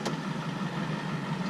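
Ford 7.3 PowerStroke diesel with straight pipes and the muffler deleted, idling loud and close with a continuous raw, rumbling exhaust drone.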